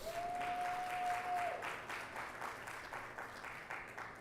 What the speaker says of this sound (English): So let's go ahead and give them a big round of applause.